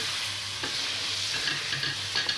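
Chicken korma seasoned with garam masala is stirred in a pot, a steady close sizzle with soft scraping strokes running throughout, no voices.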